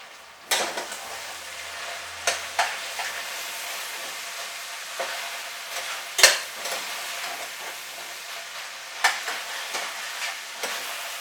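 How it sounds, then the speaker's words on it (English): Cabbage sizzles steadily in a hot pan, broken by occasional scraping and clinks of a utensil stirring, with no talking. "frying cabbage."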